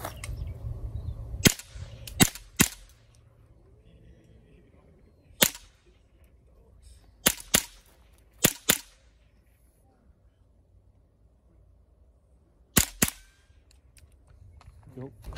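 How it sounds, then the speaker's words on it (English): Gunshots fired at logs, heard as several sharp, loud cracks spaced apart: a few early, a close pair and a cluster in the middle, then a final double shot, with quiet gaps between them. "Just shoot at those logs."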